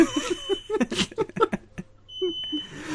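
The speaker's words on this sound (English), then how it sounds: "Oh, my fire alarm is going off." A home fire alarm goes off with a steady high electronic tone in the second half, while people talk and laugh over it at the start.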